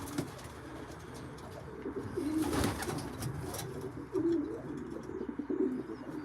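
Racing pigeons cooing in a loft, soft low repeated coos from several birds close by, with light rustling and occasional chirps over a steady background.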